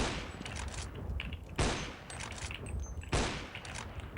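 Steady rapid automatic gunfire from Counter-Strike 1.6, with two sharper, louder bursts standing out from the continuous crackling stream.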